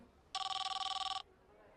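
A telephone rings in one continuous electronic trill lasting under a second, clear and close over a quiet room.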